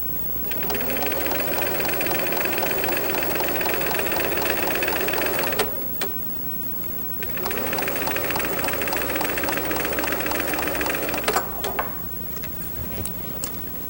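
A home sewing machine stitching a seam, its rapid steady whirring and needle clatter running in two long bursts separated by a brief pause, close and loud.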